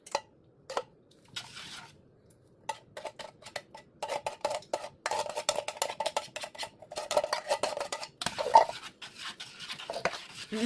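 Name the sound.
stirring plum cherry jam in a Saladmaster pot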